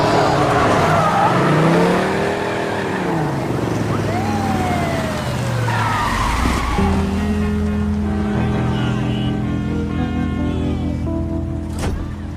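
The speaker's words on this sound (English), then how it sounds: "Are you gonna let some app tell us how to do a car chase?" Movie car chase with skidding and squealing tires, loud engines roaring and sliding under dramatic music, with a siren-like rising tone near the end.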